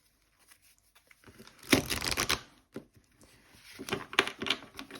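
Tarot cards are shuffled and drawn, giving quick papery riffles and flicks in two short bursts separated by a brief pause, close and clear with no voices.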